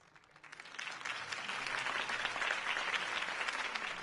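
A crowd applauds at the end of a campaign speech for Harvey Dent. The clapping swells from quiet into steady, dense applause that continues throughout.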